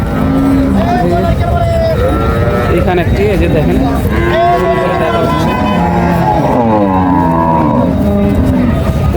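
Cattle, including farm-raised cows, at a livestock market on a hot day: several deep, drawn-out moos overlap one another, loud and close, over steady crowd and market noise, with someone speaking nearby.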